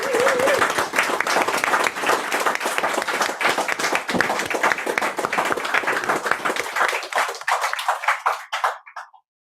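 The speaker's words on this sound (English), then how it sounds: "One more round of applause for Victoria Adukwei Bulley" An audience at a poetry reading event claps warmly in a full, dense round that holds steady for several seconds. It then thins to a few scattered claps and fades out.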